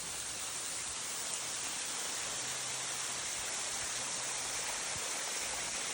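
Steady roar of falling water from a waterfall near an old power plant at Peter's Kill, a continuous broadband rush filling the whole clip at even loudness with no voices.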